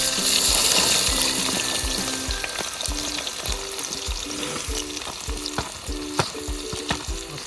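Chopped onion sizzles loudly in hot oil in a pan at an outdoor night-time village chicken party, with a continuous frying hiss broken by regular rhythmic scrapes and clacks of a stirring spoon.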